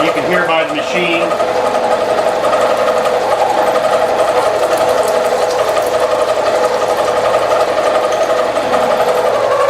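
A metalworking machine runs steadily under flood coolant while cutting a barber chair part, a continuous dense mechanical whir with a ratcheting, gear-like chatter, loud and close for the whole stretch.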